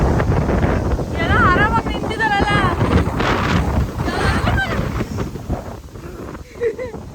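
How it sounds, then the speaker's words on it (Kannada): A cold wind blows during Typhoon Bavi in China and buffets the microphone with loud, rough, constant rumbling. Faint wavering voices or bird-like calls come through the gusts. "ಜಸ್ಟ್ ಈ ತರ ತಣ್ಣಗೆ ಗಾಳಿ ಬೀಸ್ತಿತ್ತು"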